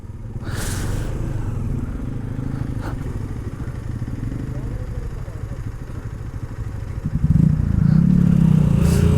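A motorcycle engine runs steadily during a short ride on a road in Nepal, with a constant mid-pitched drone and a clattering rumble that grows louder and rougher near the end.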